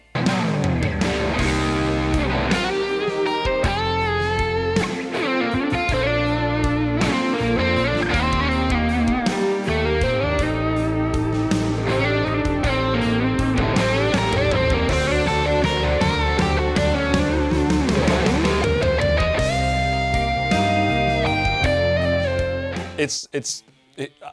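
A distorted electric guitar through an amp simulator plugin plays a busy, continuous melodic line with sustained notes, loud and steady throughout before stopping abruptly at the end.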